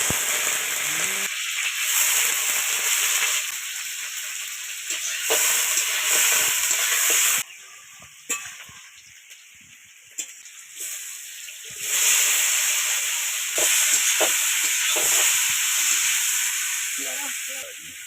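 Vegetable curries cook on two stoves, giving a steady frying sizzle and hiss with steam. The sizzle swells and fades in stretches, with occasional stirring clinks.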